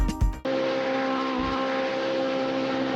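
Mercedes AMG GT3 race car in a racing game crossing the finish line, a brief rising engine burst and gear change at the start, then a steady engine drone held at even loudness.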